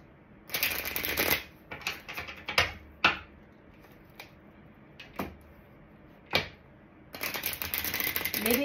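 Tarot cards being shuffled and handled, a run of dense riffling followed by several sharp separate card snaps and slaps, then another long burst of shuffling, close and fairly quiet.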